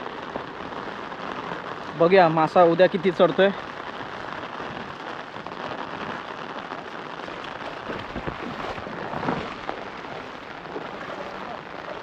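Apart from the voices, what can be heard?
rain falling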